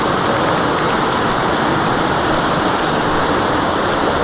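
Heavy monsoon rain pouring over a green Konkan village, a dense, loud and unbroken roar of downpour with no voices.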